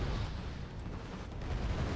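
A fast-firing AMX-13/90 tank gun booms in Wargame Red Dragon amid a dense, rumbling wash of battle noise, with no distinct individual shots standing out.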